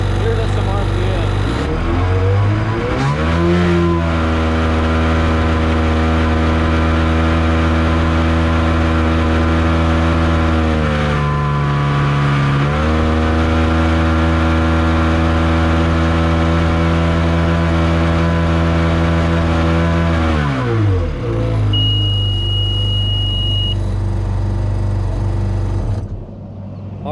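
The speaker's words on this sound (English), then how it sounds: "Here does some RPM." A Sea-Doo XP-DI jet ski engine is revved up from idle, rising to a loud, steady drone with a brief dip mid-way, then falling back to idle. It sounds close and continuous, and a voice talks over it.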